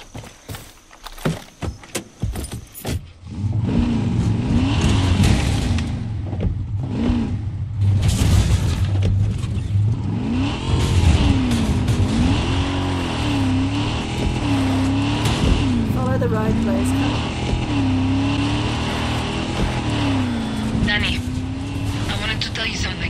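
A car in the video game Far Cry 6 drives along with a loud, steady engine drone that rises and falls in pitch, while people talk over it throughout.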